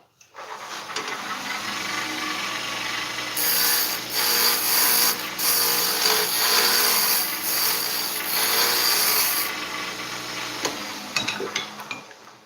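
A wood lathe spins a wooden Christmas ornament blank as a turning tool cuts, giving a steady whirring hum with a continuous scraping hiss that swells and fades over several seconds, close and without speech.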